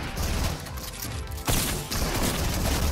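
Rapid video game gunfire in an arena match, loud and dense bursts of shots crackling almost continuously, with a sharp louder burst midway.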